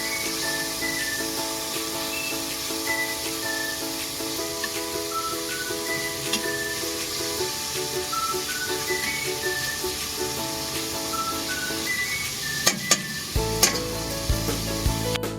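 Garlic, onion and tomato sautéing in a pot for pork sinigang, a steady close sizzle and frying crackle with occasional stirring clatter and scrapes, a few sharp knocks near the end, and music playing faintly underneath.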